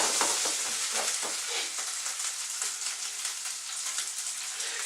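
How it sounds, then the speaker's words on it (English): Chicken curry frying in oil in a pan, a loud continuous close hiss and sizzle with occasional stirring clatter, no voices. "just about 1 or 2 tablespoons more oil, just to give it something to fry up there"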